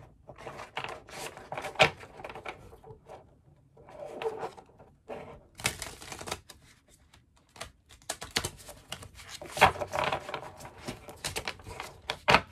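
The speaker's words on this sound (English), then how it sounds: "Hopefully I will be able to shuffle again in a proper manner" A deck of tarot-style cards being shuffled by hand, with bursts of riffling and flicking cards separated by short pauses, close and fairly quiet.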